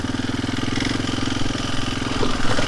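A four-wheeler ATV engine running steadily on a rural property, a close, continuous mid-pitched motor drone that swells slightly louder toward the end, with no talking.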